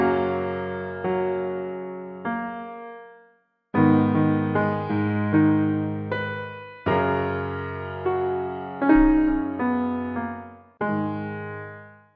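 The Stage Grand piano plugin plays a series of chords and phrases, each attack ringing and decaying, with a brief silent pause early on, then further chords struck in a relaxed rhythm; no talking.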